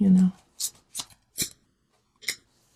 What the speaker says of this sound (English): I just pulled out all of the major arcana cards